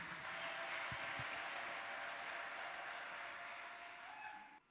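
A church congregation at an Easter celebration claps for God. The sound is a faint, sustained wash of many hands heard from a distance, thinning out at the very end.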